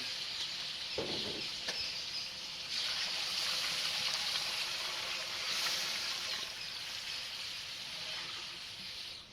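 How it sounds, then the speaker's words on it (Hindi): Water poured into a pot of veg pulao spice masala cooking over a wood fire, a steady hissing splash and trickle running for several seconds, fairly close and even in level. "ये पानी डाल दिया, अब इसमें पकेगा ये मसाला।"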